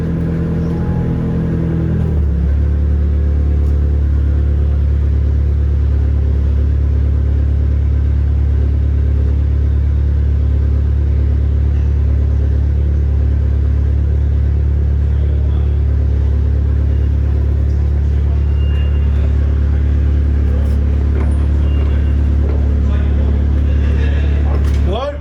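Someone's WW1 replica tank Deborah, with a broken final drive, rumbles loudly and steadily up close. A deep engine drone carries on throughout with faint clanks over it and occasional voices underneath.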